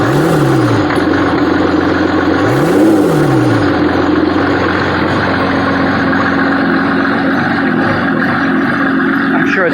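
A 1985 Oldsmobile 98 engine idles steadily just after an injector pump replacement, loud and close with a slightly high, even rumble and a couple of brief rising-falling pitch swells early on.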